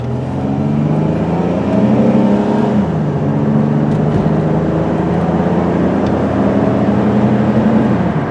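A silver 2004 Dodge Caravan accelerates steadily, its engine note climbing and dropping as it shifts gears, heard from inside the cabin as a continuous loud drone with no voices.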